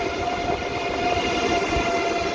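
Train pulling into a station platform, a loud, steady rumble of rolling wheels and carriages close by, continuous with no talk over it.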